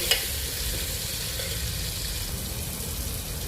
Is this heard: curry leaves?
yes